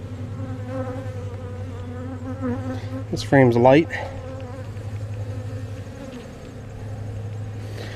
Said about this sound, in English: There's a bee with pollen on its legs right here